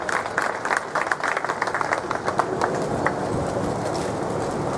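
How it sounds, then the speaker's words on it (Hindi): Audience at a police station inauguration ceremony in Burhanpur claps loudly, a dense burst of hand claps that stays steady for several seconds under a faint background murmur. "स्वागत करें, जोरदार ताली एक बार।"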